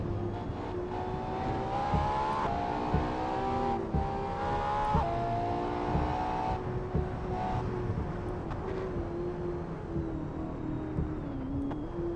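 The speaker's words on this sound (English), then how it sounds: "The engine sounds in the tunnels are great." A car engine drones and revs inside a tunnel on the Shutoku expressway in the racing game Assetto Corsa, its pitch rising and falling through gear changes with a reverberant, enclosed boom and no voices.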